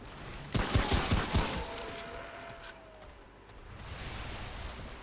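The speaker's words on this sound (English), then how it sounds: "the Reaper pistol is definitely kicking out definitely amount of DPS to get through some of these smaller mobs" Rapid bursts of Reaper pistol fire in a video game crack out in a quick cluster, then fade into ambient game noise and a faint whine.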